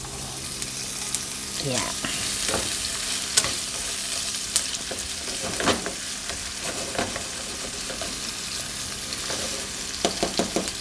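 Tomatoes and garlic sauté in a hot pan, a constant bright sizzle broken by repeated scraping stirs of a utensil, with a brief word spoken nearby.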